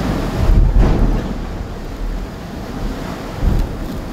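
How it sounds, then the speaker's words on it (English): Rough sea waves and spray crash against a Seawind 1370 catamaran under sail in about 25 knots of wind, with loud surging bursts of water and heavy wind buffeting the microphone, no speech. "Just a lot of spray and a lot of kind of like bouncing off those waves."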